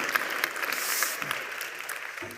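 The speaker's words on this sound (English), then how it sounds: "Could everyone join me in giving Dylan another round of applause?" Steady applause from a school event audience at a main venue fills the room for a performer, a dense wash of clapping that holds at an even level throughout with no break.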